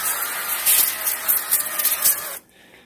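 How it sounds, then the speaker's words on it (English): An olive oil cooking spray hisses continuously for about two seconds onto a pot roast, close and fairly loud, then cuts off abruptly into quiet. "Hit it with a little bit of olive oil spray"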